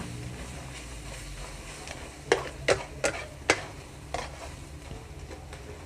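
Chicken and glass noodles are stir-fried in a pan, with several distinct scraping stirs of a utensil over a steady background sizzle, close and moderately loud.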